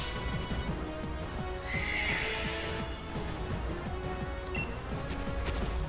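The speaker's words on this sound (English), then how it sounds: "That's an angry horse." A horse neighs loudly within the Pokemon Sword video game, with a shrill whinny rising over rhythmic hoof clip-clops and a dense game soundscape.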